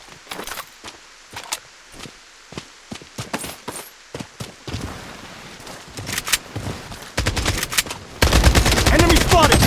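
Rapid gunfire in the BloodStrike video game comes in bursts of sharp cracks, then builds into dense continuous shooting toward the end, with brief game voice callouts.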